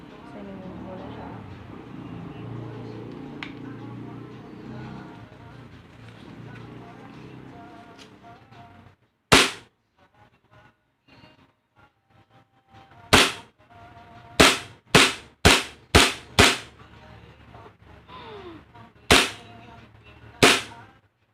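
An Umarex HK MP7 airsoft gun fires single semi-auto shots, about nine sharp close cracks spaced irregularly over a quiet background, after a stretch of people talking.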